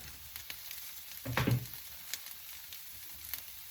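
Okra cooking in a hot pan, a soft steady sizzle with one louder burst of frying and stirring partway through, close and fairly quiet, no voices.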